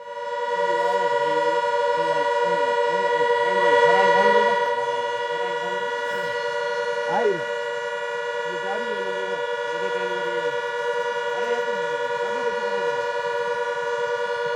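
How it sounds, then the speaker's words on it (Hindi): A steady, droning air raid siren in Barmer, India, holds one continuous tone throughout while people talk underneath it. "इस सायरन की आवाज भी सुनाई देगी इसमें"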